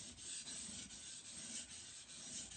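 Knife blade stroked under heavy pressure across a 400 grit KnifePlanet sharpening stone, a steady gritty scraping that runs continuously at close range with faint rhythmic dips between strokes.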